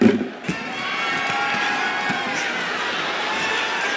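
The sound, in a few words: crowd cheering in WWE 2K25 video game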